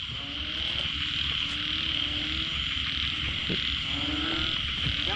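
Frogs croak at night in rural Isan, Thailand, giving repeated rasping calls over a dense, continuous drone of insects and crickets.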